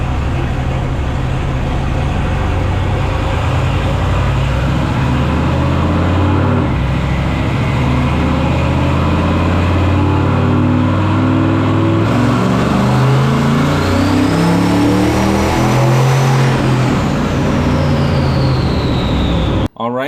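A turbocharged, carbureted big block Mopar 361 V8 on a dyno, running on pump gas and revving hard and loud for the whole stretch, with rising engine tones and a whistle near the end before it cuts off abruptly.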